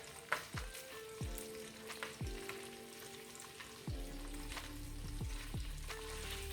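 Ham hocks browning in a pot for Southern collard greens, turned over: a quiet steady sizzle with several distinct knocks and clunks as the pieces are shifted, the frying growing a bit louder toward the end, no talking.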